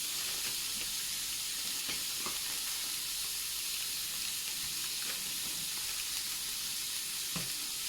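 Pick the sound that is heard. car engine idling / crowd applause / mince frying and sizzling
mince frying and sizzling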